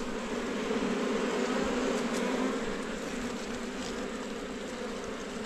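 Honey bees swarm around a large wild hive, a steady dense buzzing drone that holds close and fairly loud throughout with no voices.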